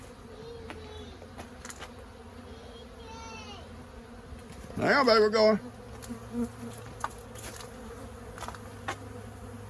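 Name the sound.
robber bees buzzing around a bee room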